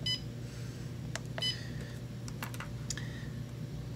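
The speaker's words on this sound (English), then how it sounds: "So if I click the channel button, I can move through each battery." A few short electronic beeps from the channel button on a drone battery charger for spraying drones, sounding as it steps through each battery, with faint button clicks over a steady low hum.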